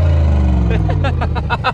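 A close engine of a Mansory G63 Star Trooper pickup in sport mode drones low, then revs climb in a quick series of rising pulses, each one higher and throatier.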